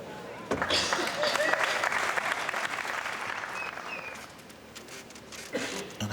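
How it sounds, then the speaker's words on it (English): Audience applause at the 2019 World Pool Masters last-16 pool match rises quickly into a dense, sustained clatter of clapping from a large crowd, then gradually thins out and fades over several seconds. "And that deserves applause."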